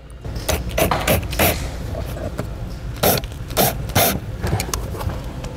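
A screw being driven to mount a brake system control box on the passenger side of the center console in a 2016 Ford Taurus: a series of short, close ratcheting and scraping clicks at an irregular rhythm over a low background hum.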